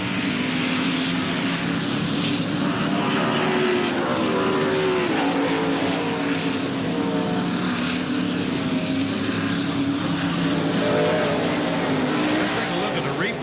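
Onboard a 1994 NASCAR race car driven by Rusty Wallace at Sears Point Raceway, the engine drones loud and continuous while it accelerates through a corner exit, pitch rising and shifting, with a broadcast commentator talking over it.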